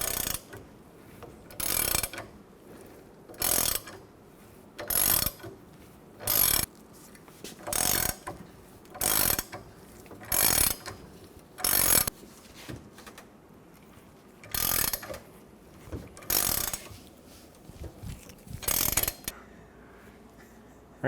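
A wheel hub is pressed into a front wheel bearing on a 2014-2019 Toyota Highlander, with a regular series of loud ratcheting strokes repeating about every second and a half, then stopping.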